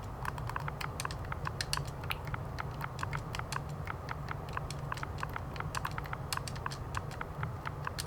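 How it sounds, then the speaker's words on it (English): Rapid typing on a computer keyboard, a dense steady run of sharp key clicks over a low constant hum, with no talking. "I typed really fast"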